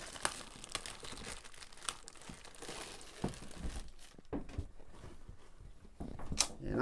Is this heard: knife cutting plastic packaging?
yes